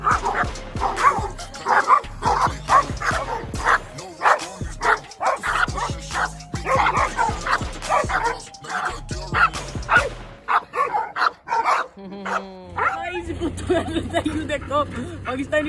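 A dog barks aggressively at a Doberman in a long, rapid series of close, loud barks and yips, with whimpers and muffled voices mixed in, before the barking thins out near the end.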